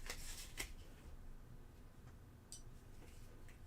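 A deck of game cards for a space-exploration board game is shuffled close by, with two quick riffling bursts at the start and another burst later against a quiet room.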